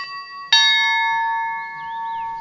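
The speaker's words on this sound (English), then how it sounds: "5 times a day, a bell rings, and the followers turn solemnly to pray towards the mountaintop where Vissarion lives" A single bell strikes once in a religious community's daily call to prayer, a clear metallic ding with a long, ringing tone that slowly fades over a couple of seconds, heard alone with no talking.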